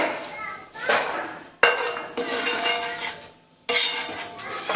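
Fried almonds are lifted out of a pan of hot ghee with a metal spoon, giving repeated scraping clinks and clatters in bursts, close and fairly loud, with faint background voices.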